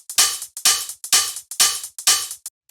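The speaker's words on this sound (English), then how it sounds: "After that, we have the hi-hats, which sound like this." Five evenly spaced open hi-hat hits in a funky deep house beat, each bright, loud and crisp with a quick decay, played alone at a steady pulse.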